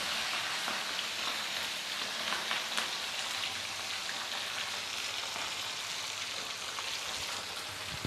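Soft, fridge-chilled fish frying in very hot oil gives a dense, even sizzle, like steady light rain, close by and continuous with no talking.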